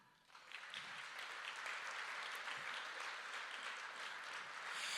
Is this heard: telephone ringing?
no